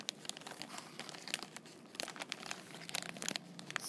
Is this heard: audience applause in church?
no